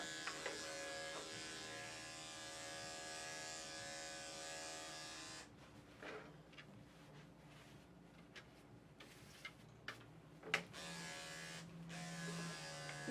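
Electric dog grooming clippers, used while grooming a Boxer or a Yorkie, give a steady close electric buzz. The buzz cuts off about halfway through, leaving soft clicks and handling noises.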